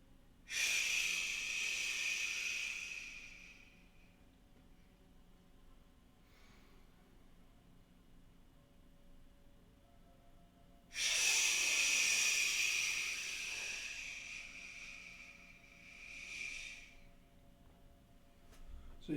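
Two long, breathy exhalations, each a loud hiss of several seconds, from a healing sounds breathing exercise, separated by a quiet stretch with faint breath in between.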